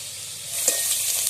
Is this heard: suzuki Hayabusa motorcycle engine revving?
no